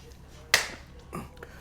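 One sharp, crisp clap rings out up close, followed a moment later by a soft, muffled rustle.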